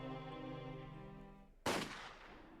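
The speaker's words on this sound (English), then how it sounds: "I braced myself and closed my eyes as the sound of a gunshot sliced through the air" A single loud gunshot from the video game Higurashi When They Cry cracks sharply after a sustained musical drone, its burst trailing off into a decaying echo.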